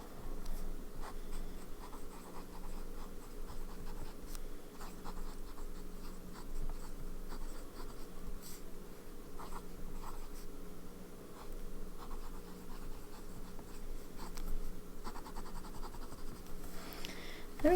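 A large stub fountain pen nib loaded with KWZ Hawaii Blue ink scratches faintly across paper in soft, uneven strokes, very close and quiet, over a low steady background hum.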